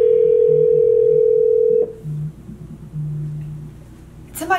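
Phone ring-back tone from a call placed through an Alexa smart speaker: a steady, loud tone held for almost two seconds, then cut off, followed by low murmuring and a brief rustle at the end.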